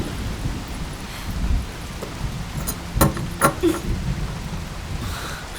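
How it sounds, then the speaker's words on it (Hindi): Steady heavy rain hisses throughout, with a few sharp knocks and thuds of water striking surfaces partway through. No one speaks. "शैलू, ये क्या इतनी बारिश में?"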